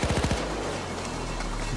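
Rapid automatic gunfire in the Payday 2 video game while shooting at a sniper: a quick loud burst of shots at the start, then a ringing echoing tail.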